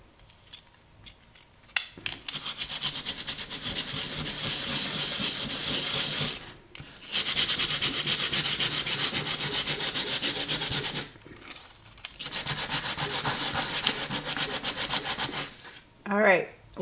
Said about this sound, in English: Let us go at this now with some sandpaper.